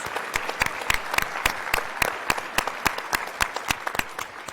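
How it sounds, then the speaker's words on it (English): Steady applause from a crowd, with sharp individual claps standing out over a continuous bed of clapping, fairly close and sustained throughout. "A big round of applause for all our volunteers."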